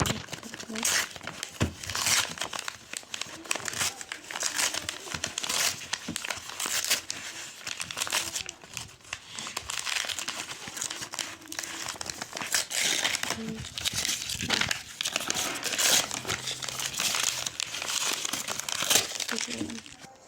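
A surprise package being unwrapped: continuous close crinkling and crumpling of plastic and paper, with occasional tearing, going on almost without pause throughout.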